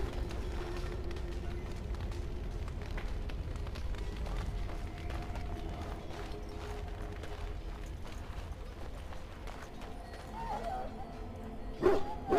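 Hounds in the video game Dragon Age: Origins barking and yipping in scattered bursts over a low rumbling background, with some whimpering; faint and moderately distant, with voices talking at times.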